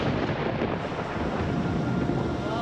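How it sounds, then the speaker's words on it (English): Thunder from a storm at Bondi Beach rolls as a dense, continuous low rumble, loud and steady throughout with no talking. "And then lightning, thunder."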